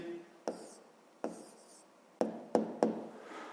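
A pen or pencil writing an answer down by hand on paper during a fifth-grade math exercise, a few soft close taps and short scratching strokes with quiet pauses between them.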